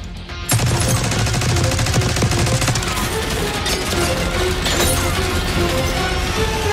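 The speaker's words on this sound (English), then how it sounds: "Stay low until that minigun stops spinning." A minigun in Call of Duty Black Ops 6 fires in a loud, dense, continuous rattling burst that starts abruptly and runs unbroken, mixed with crashing and shattering impacts.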